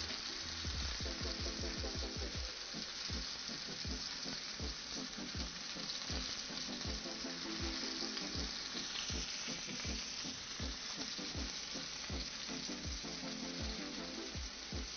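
Salmon pan-searing in a frying pan, cooking on its second side, makes a continuous dense sizzle with regular rhythmic pulses throughout, close and fairly quiet, with no talking.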